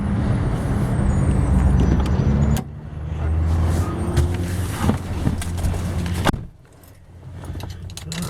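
2000 Ford Crown Victoria LX being boarded for a drive: steady low engine and road rumble, a sharp door slam, then thuds and clunks as the cabin quiets near the end.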